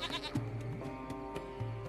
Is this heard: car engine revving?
no